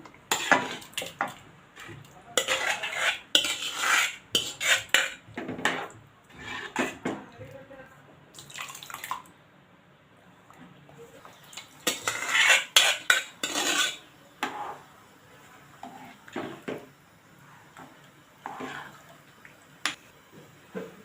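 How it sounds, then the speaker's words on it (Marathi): Mashed vegetables for pav bhaji being added to cooked onions in a pan and stirred, giving repeated scraping and clinking of a metal spoon against the pan in bursts, with a few quiet pauses between strokes. "यामध्ये मी आता स्मॅश केलेली भाजी घालत आहे"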